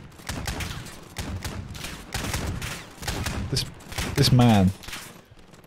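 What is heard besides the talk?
gunfire in Call of Duty Modern Warfare video game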